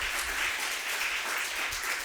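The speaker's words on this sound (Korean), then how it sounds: "오늘까지 우리를 인도하신 하나님께 박수로 영광을 돌리겠습니다" Congregation applauding together in a church during a year-end Sunday service, a steady wash of clapping lasting a couple of seconds at moderate distance with no voices over it.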